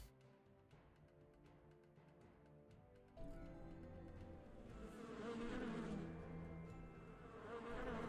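Buzzing of the Bee Witch boss in the video game Lost King's Lullaby, a steady insect drone under game music that swells louder and busier halfway through and stays up to the end.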